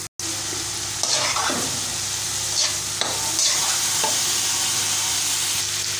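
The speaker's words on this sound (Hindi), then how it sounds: "हमारे वेजिटेबल्स फ्राई हो चुके हैं" Shredded cabbage and mixed vegetables fry in a hot pan with a constant close sizzle, broken by a few spatula stirs and scrapes, and no talking.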